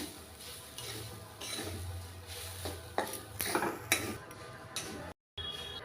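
Grated coconut being stirred in a pan, with faint scraping and soft metallic clinks of a utensil against the pan at irregular intervals, quiet and close.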